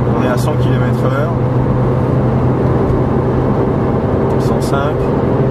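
A Porsche 997 MKI Carrera with a SCART exhaust cruises in sixth gear at about 100 km/h on a motorway, its engine a steady low droning hum with road noise, while someone talks inside the car.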